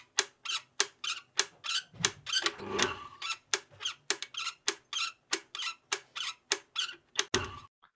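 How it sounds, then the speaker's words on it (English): Rapid rhythmic squeaking and ticking, like a creaky blender churning, repeating in quick regular pulses with a couple of lower thumps mixed in; no voices. "And then there's this like squeaky blender thing."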